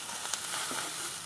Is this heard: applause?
no